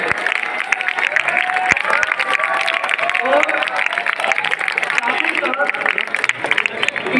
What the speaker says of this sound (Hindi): मुस्तफा अली। एक बार जोरदार तालियां हो जाए।